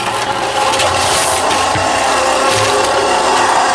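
A concrete barrel mixer turns with sand inside, giving a steady, loud, continuous gritty rumble and scraping churn with faint mechanical rattles throughout.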